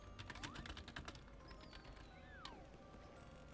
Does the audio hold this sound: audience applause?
no